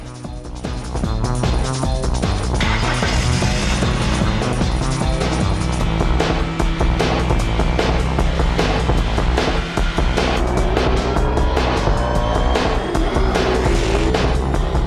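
A race car engine recorded for Gran Turismo 2 roars loud and continuous for about fifteen seconds, its revving pitch rising and falling steadily with no voices over it.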